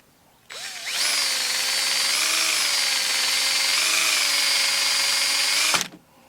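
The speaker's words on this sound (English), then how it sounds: "Okay, then you can just drill through the bottom." A power drill bores through wood, a steady high whine that spins up quickly, holds for about five seconds and then cuts off, close and clear with no talking.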